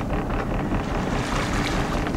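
Low idling boat engine on a whale-watching outing, a steady rumble blended with wind buffeting the microphone and lapping water throughout.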